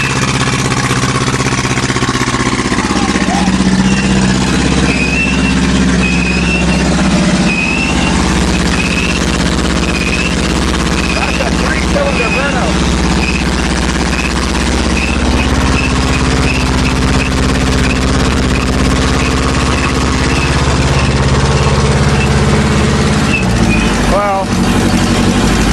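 An old 2.2 liter car engine, idle for three years and running on stale gas, runs roughly after a cold start, a steady loud low rumble with uneven ticking throughout, close by.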